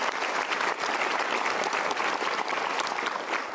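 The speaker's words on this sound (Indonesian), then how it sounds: "Kita berikan tepuk tangan dulu." A studio audience at a motivational talk show breaks into full, continuous applause, a dense even wash of many hands clapping with no voices over it, holding steady from start to finish.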